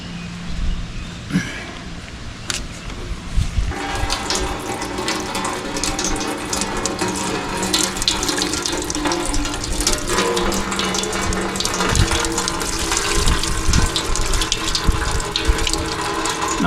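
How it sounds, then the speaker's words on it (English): Fuel draining from the tank of an old Kubota tractor left sitting in weeds for over twenty years, a steady close trickle and splash into a container with occasional metallic clanks and handling noises. "let's go ahead and get this fuel filter off. That way we can go ahead and start draining some of the fuel."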